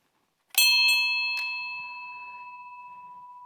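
A church bell tower bell strikes loudly, three quick clangs followed by a long, bright, slowly fading ring that hums on after the strikes, with no voices.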